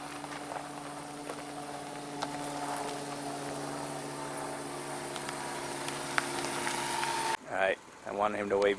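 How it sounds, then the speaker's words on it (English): A steady low mechanical drone of an aircraft passing overhead, with a faint hum throughout, then a voice breaks in near the end. "Airplane."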